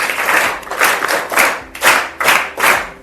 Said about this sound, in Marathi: टाळ्या टाळ्या